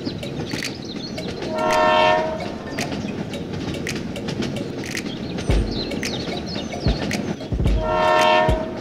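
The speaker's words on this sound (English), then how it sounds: "The train continues to the next station." A train rumbles along with clacking wheels and thumps, and its horn sounds twice, several seconds apart, loud and close.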